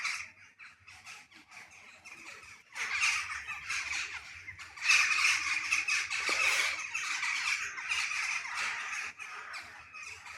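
A large flock of crows cawing and squawking as they fly off to roost above a building, a dense, continuous chorus of harsh calls that swells louder midway and stays busy to the end.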